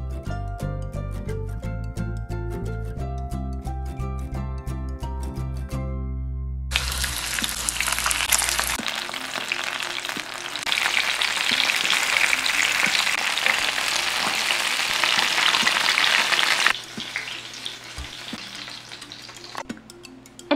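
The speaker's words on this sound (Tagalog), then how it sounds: "At iprito na po natin ito hanggang sa mag-golden brown." Milky mango and milky banana turon deep frying in hot oil until golden brown: after a stretch of music, a loud, dense, steady sizzle and crackle runs for about ten seconds, then eases off.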